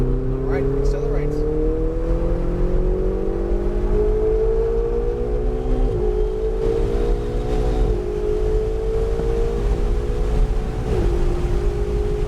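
A Ferrari engine accelerates hard and loud throughout, its pitch climbing steadily with brief dips at gear shifts before rising again.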